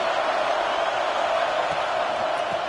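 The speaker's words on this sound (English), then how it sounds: "Listen to this crowd just shaking the girders of this place" Stadium crowd in a college football video game roaring as a steady, dense wall of noise, loud and unbroken throughout with no distinct voices standing out.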